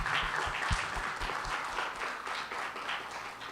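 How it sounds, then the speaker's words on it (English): An audience at a Sunday morning service gives a birthday round of applause, a moderately dense clapping that fades gradually. "You can join me for a round of applause"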